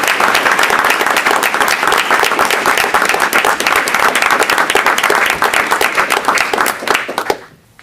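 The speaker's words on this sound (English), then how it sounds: "how about a round of applause again?" A loud, dense round of applause from the audience at a Lyons Township High School board meeting honouring students, with sustained close clapping throughout that fades out quickly at the very end.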